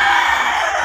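A single bulik rooster crows loudly and close by, one sustained strained call lasting the whole moment.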